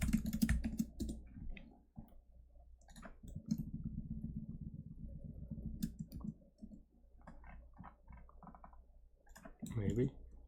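Code being typed on a computer keyboard in quick bursts of clicky keystrokes, close to the microphone, with short pauses between runs of typing.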